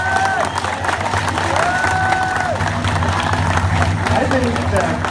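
A crowd applauds and cheers at a rally celebrating a hard-won agreement, sustained clapping and shouts filling the space loudly, with voices calling out and a steady low hum beneath.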